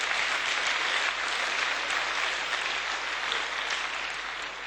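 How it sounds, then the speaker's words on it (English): Steady, sustained clapping from a large audience in a parliamentary chamber during a Euroscola session, even and continuous throughout, thanking the interpreters. "So a round of applause for them,"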